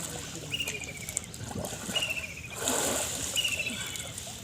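Someone wading and dipping into the Ganges river at a crowded ghat, soft splashes and trickling water at close range, with faint background voices and a few thin high whistles.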